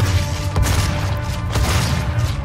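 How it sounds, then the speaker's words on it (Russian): Shotgun blasts in the video game Doom, heavy booming shots over a dense, continuous roar of in-game combat noise, loud and close throughout. "Сейчас добьем с помощью дробовичка."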